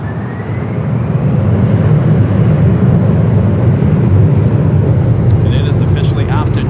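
An airliner takes off from runway 24 left at LAX, its jet engines a loud, sustained roar from start to finish, with a commentator talking over it.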